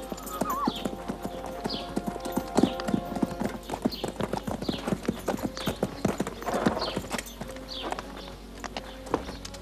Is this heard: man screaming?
no